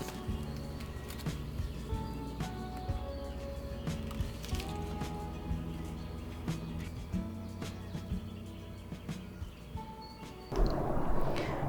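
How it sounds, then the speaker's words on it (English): Birds sing loudly in the early spring morning around 5:30, with many overlapping chirps and calls sustained throughout, joined by a brief broadband rustle near the end. "I had to get up and listen to the birds because they're singing so loud"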